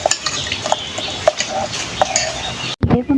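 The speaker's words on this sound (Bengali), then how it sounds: "এবার আমি খুন্তির সাহায্যে একটু ঘেঁটে দেবো।" A spatula stirs handi chicken curry with ground spice paste in a pot, making close scraping and clinking strokes at an uneven rhythm over a faint steady cooking hiss, with no talking.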